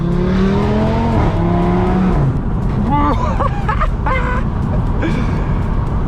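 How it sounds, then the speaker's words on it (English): A 2019 Audi RS3 with a Milltek exhaust revs hard from inside the car, its engine note climbing and falling through gear changes, with sharp crackling pops and bangs on the overrun. "We've got the savage pops and bangs as well, which you'll hear in a moment."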